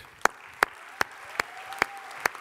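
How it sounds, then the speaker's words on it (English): Applause for speakers Ayah, Gerardo and Elliot at the One Young World 2011 interfaith plenary comes as six crisp, evenly spaced claps in a slow rhythm over a faint, low background murmur. "So a big round of applause for Ayah, Gerardo,"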